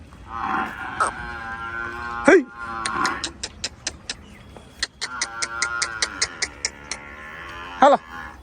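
A Kankrej cow moos several times, long low calls near and loud, with a rapid run of sharp clicking taps between the moos and a voice briefly calling out.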